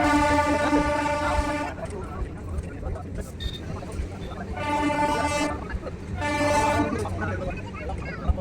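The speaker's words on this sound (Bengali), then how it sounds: "দেখছেন ট্রেন যাচ্ছে।" Darjeeling toy train rolling past Batasia Loop, its horn giving three sustained toots spaced a few seconds apart over a steady rumble, with voices and outdoor crowd noise underneath.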